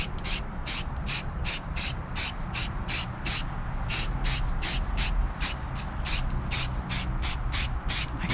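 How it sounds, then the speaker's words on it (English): An aerosol can sprays paint onto Rover P4 suspension parts in short, evenly spaced hissing bursts, about twenty quick pulses over a low background rumble. "How are you meant to spray all the little bits?"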